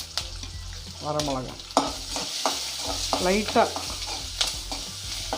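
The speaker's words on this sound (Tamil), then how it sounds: "இது இப்போ கருவேப்பிலையும் பச்சை மிளகாயும் போடுறோம்" Curry leaves and green chillies sizzle and crackle in hot oil while being stirred for tempering leftover rice, a steady close frying hiss with someone speaking briefly over it.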